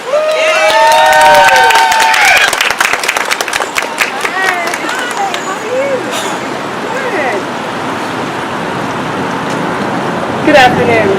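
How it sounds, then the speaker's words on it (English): Applause and cheering rise for a speaker at a union nurses' rally, loud and dense at first with whistles and shouts, then thinning into scattered claps and crowd noise. "Let's give her a big round of applause."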